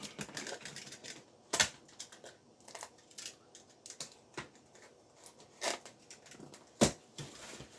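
Packaging around a Zastone D9000 radio being opened up close, with a quick series of dry clicks, snaps and crinkly rustles in uneven bursts, one sharp snap standing out near the end.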